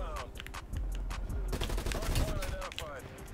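A tactical rifle fires in a Call of Duty match, rapid sharp shots coming in quick bursts with short gaps. Someone talks over the gunfire.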